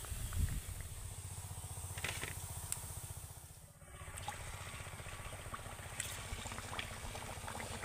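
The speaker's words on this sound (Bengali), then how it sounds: "এবার আমি পিঠেগুলোকে তেল ঝরিয়ে তুলে নেব, নিয়ে বাকি পিঠেগুলোকে ভেজে নেব।" Pitha cakes deep-frying in hot oil in a pan, a continuous close bubbling and crackling with small pops, steady throughout.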